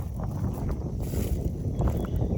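Wind blowing across a hillside farm in the mountains, a steady low rushing buffet against the microphone with faint gusty swells and no voices.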